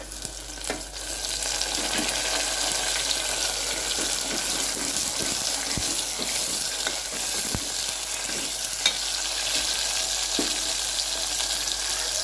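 Tomato frying in a pan with light-brown fried onions for a prawn and raw mango curry, giving a steady close sizzle throughout with a few soft stirring clicks and no talk.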